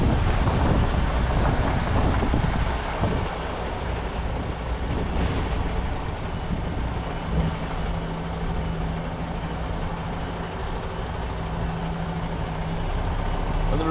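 A truck towing a trailer reverses slowly in a storm with winds over 40 mph, its steady low engine rumble heavily buffeted by loud wind noise on the microphone, with a faint reversing beep in places.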